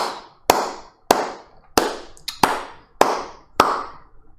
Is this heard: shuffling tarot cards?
no